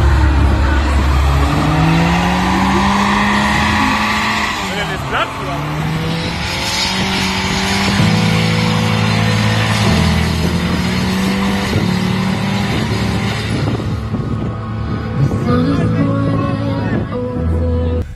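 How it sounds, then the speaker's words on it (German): A BMW 316i doing a one-wheel burnout, its engine droning loud and steady with rising and falling revs and tire squeal throughout, close up and continuous. "Auf dem Syndikat hat ein 316i einen Burnout gemacht."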